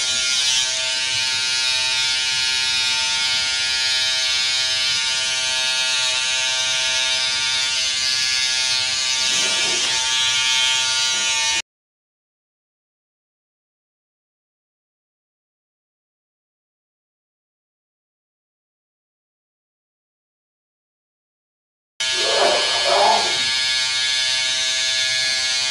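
Electric razor buzzing steadily and loudly as it shaves a head, a constant hum broken by a long silent gap before the buzz resumes near the end.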